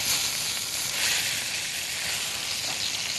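Roasted red pepper soup sizzles softly in a pot as it is stirred, a faint steady hiss throughout with no talking.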